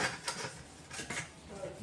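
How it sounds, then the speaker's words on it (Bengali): Dishes washed after a meal: pots, plates and cutlery knock and clatter together in a few quick bursts, close and quiet, with faint voices in the background. "বাসনগুলো এখন মেজে মেজে নিই"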